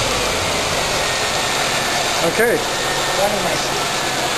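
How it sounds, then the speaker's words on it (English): A big Lincoln Continental runs in a garage after a jump from a small dead battery, its engine giving a steady, loud idle drone throughout, with a brief spoken word over it. "And starting the engine."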